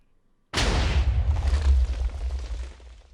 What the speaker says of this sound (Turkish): TNT patlama.